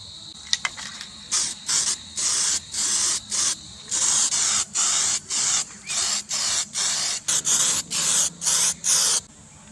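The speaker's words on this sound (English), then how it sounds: "I'm just going to hit this with a bit of primer on the edges" Aerosol primer sprayed in a run of short, even bursts along the edges of a Toyota Hilux truck's body panels, each hiss close and crisp with brief gaps between, alone without talk.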